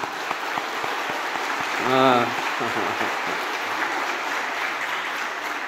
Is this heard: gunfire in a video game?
no